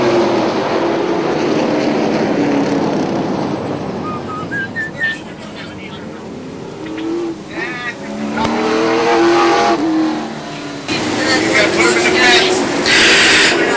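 Super late model stock cars race around a short oval track, engines roaring steadily throughout with rising and falling passes, under continuous excited commentary from a track announcer.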